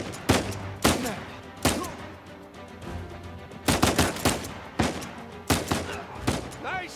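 Gunfire from Uncharted 4: sharp, loud shots in irregular bursts and single cracks, some clustered rapidly, with short gaps between.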